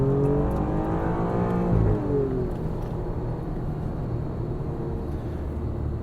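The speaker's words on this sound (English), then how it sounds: "There's a tiny difference in race mode that the exhaust note changes just a little bit." Alfa Romeo Giulia Quadrifoglio in race mode, its engine and exhaust droning loud and close, briefly swelling in pitch before settling into a steady cruising growl with no talk over it.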